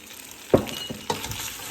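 Pasta being stirred in a pan with olive oil: a quiet sizzle with a couple of sharp utensil clinks and scrapes against the pan.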